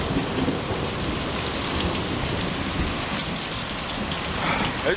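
Heavy rain pours down hard and steadily during a thunderstorm, a dense close wash of drops drumming on surfaces with low rumbling underneath throughout.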